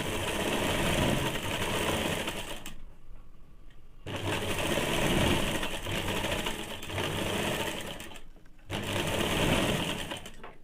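Electric sewing machine stitching a binding strip onto a two-piece Bombay-cut blouse, a steady loud whirring drone in three long runs separated by short pauses, with no voices.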